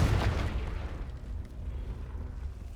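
Confringo blasting curse going off in Hogwarts Legacy, a loud booming explosion that hits at once and then rumbles and decays through a low roar over a couple of seconds.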